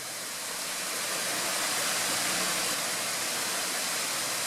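Katoomba Falls in the Blue Mountains rushes as a constant broadband roar of falling water, close and steady with no other sounds.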